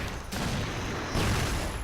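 Rapid bursts of gunfire are exchanged in the online shooter CrossFire: two dense volleys of shots, loud and close, separated by a brief gap.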